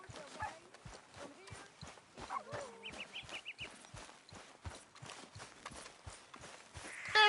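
Horse hooves clip-clop at a steady walking pace in Red Dead Redemption, the regular muffled thuds close by, with faint voices and small sounds mixed in.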